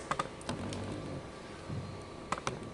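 Keys are pressed on the keypad of a Tektronix AFG3101C signal generator to enter a frequency value. Several light clicks come in quick pairs at the start and end, with a pause in between, close and quiet over a low hum.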